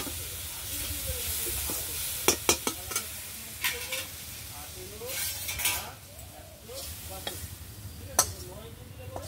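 Grated coconut and jaggery stirred in a wok for pitha filling, with a soft continuous sizzle, repeated scraping of the spatula and a few sharp metallic clinks against the pan, close up.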